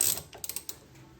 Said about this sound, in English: We got this thing rigged up now to pull the center sleeve in.